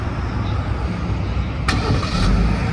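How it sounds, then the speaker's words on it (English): A 2023 Jeep Grand Cherokee engine cranks and catches with a sharp start, then settles into a steady, deep idle rumble, close and loud without talk. "Work until you can start your car like this."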